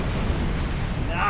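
Photon torpedo spread fired in a Star Trek video game, a short dense rumbling blast with a rising crackling burst at the end, loud and close with no talk.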